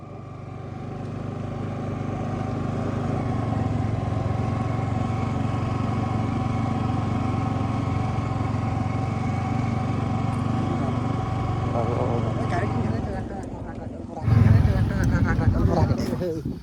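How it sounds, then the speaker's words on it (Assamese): A motorcycle engine idles and runs steadily for a long stretch, then revs and shifts near the end as a voice talks over it. "ফাইনেলি বকুল ভাই বাইকত উঠি ল'ল এতিয়া হেলমেট পিন্ধিব আৰু আমি যাম এতিয়া চুইচ গেটত"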